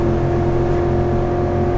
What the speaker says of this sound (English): you can feel the entire car just go like a rocket ship